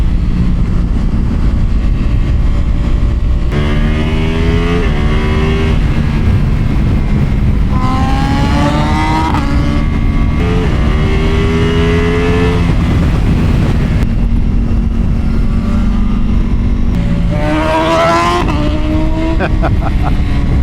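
A Ducati Pikes Peak motorcycle engine roars loudly and continuously during a fast ride, rising in pitch through repeated revving sweeps and gear changes, close up, with wind rush throughout.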